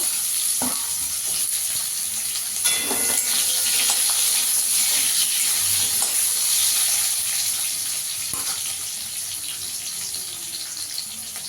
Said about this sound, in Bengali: আলুটাকেও একটু ভেজে নেব।